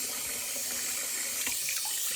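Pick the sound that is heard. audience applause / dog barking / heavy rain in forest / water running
water running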